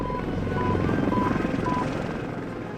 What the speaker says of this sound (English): Both helicopters keep moving at high speed, making difficult targets.